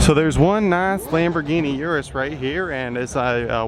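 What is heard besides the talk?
No everyday noises stand out.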